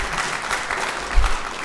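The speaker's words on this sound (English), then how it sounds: "I'll ask just one more time if you'll refrain from applauding" Steady applause from the audience at a 2018 congressional district debate, a sustained wash of clapping at moderate distance with no talk over it.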